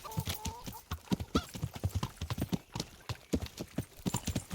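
Horse hooves clip-clop in the video game Kingdom Come: Deliverance, a fast uneven patter of close hoofbeats with a brief whinny near the start, no talk.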